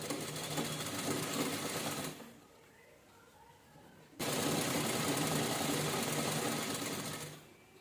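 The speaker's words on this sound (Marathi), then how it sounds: "आता आपण शिलाई करायला घेऊया" A sewing machine stitches canvas for a two-colour purse, running steadily at close range, pausing for about two seconds, then whirring again at a constant pace before stopping near the end.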